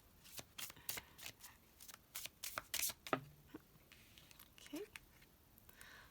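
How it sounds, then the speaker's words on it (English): Tarot cards shuffle softly by hand in a series of quiet riffling and tapping bursts, close and gentle, with brief pauses and faint background noise. "You can feel free to skip through my shuffling if you'd like."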